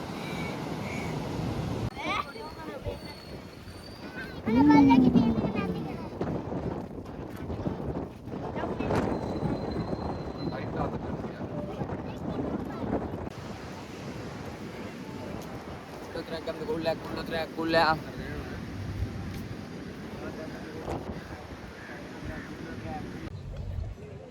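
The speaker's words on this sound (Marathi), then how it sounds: "वाऱ्याच्या आवाजाचा त्रास होऊ नये म्हणून मी थोडासा आडोशाला उभा आहे, कारण फळांणारा वारा आहे समुद्रकिनारी असल्यामुळे" Strong wind gusts across the seashore at Galle, buffeting the microphone in rough low rumbles that swell and fade over about twenty-four seconds, with someone talking over much of it.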